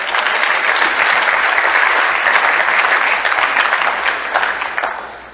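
A large crowd at a recovery workshop gathering in Minneapolis claps steadily and loudly for several seconds, the applause thinning slightly toward the end.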